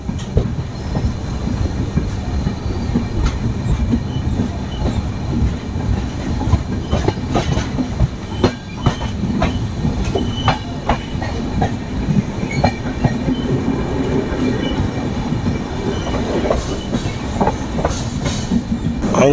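Mysore-Cuddalore Port Express passenger train rolling along the rails, a loud steady rumble with continuous clickety-clack of wheels over rail joints and occasional squeals, heard close from on board with no talk.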